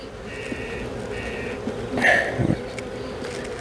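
Honeybees in a nuc hive hum with a steady, close buzz during an open inspection, while a few louder passes of single bees rise briefly above the drone.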